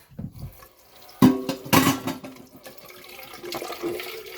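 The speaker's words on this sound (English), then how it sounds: "Yes, I know my kitchen sink is slow." Water gurgles and drains slowly down a kitchen sink, with a couple of sharp splashing surges early on followed by a softer continuous trickle and swirl.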